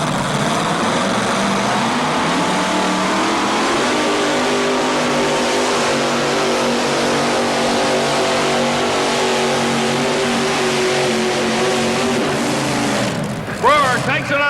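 A tractor-and-truck pulling vehicle at a 1987 pull in Louisville, Kentucky roars with a loud, sustained engine note, held steady for several seconds before dropping off sharply near the end.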